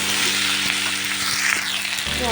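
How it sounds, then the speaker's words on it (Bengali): Onion and potato fry in a pan of oil with a steady, close, dense sizzle that runs unbroken throughout, a faint stirring scrape now and then, and no talking. "এটার সঙ্গে ভালো করে পেঁয়াজ আর আলুটা ভাজছে"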